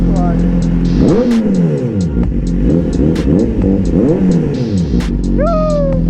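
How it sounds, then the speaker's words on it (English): A BMW S1000RR sport motorcycle's engine revs up and down in several rising and falling sweeps over a steady idle drone, loud and close from the rider's position, with a high-pitched whine above. "You can rev a bit, but don't redline."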